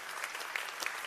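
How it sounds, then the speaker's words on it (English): Conference audience applause, a steady wash of many hands clapping at fairly low level with a few sharper claps standing out, brief and continuous. "Please applause."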